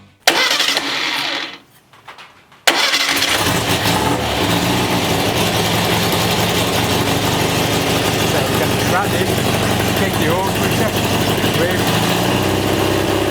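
A Volkswagen Beetle air-cooled engine on a test stand turns over briefly, cuts out, then catches and runs loudly and steadily close by, a continuous rough mechanical drone.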